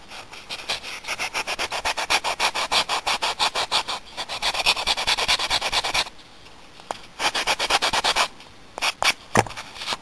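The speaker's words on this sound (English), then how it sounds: "let's sand this" Hand sanding of a wooden Pyramid Head prop makes steady back-and-forth rasping strokes in a quick, even rhythm, with a short pause and then a few more strokes and knocks.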